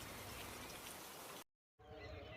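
Steady, dense cartoon rainfall hisses loudly, cuts out abruptly into brief silence, then returns as a quieter wash of rain.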